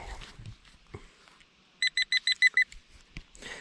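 A metal detector sweeping a field gives a quick run of six sharp electronic beeps in a regular rhythm, set between faint rustling and handling noises.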